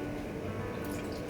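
Water is poured into a Thai sauce for red curry fish cakes, a short continuous liquid splash and trickle, close and fairly loud, with no talking.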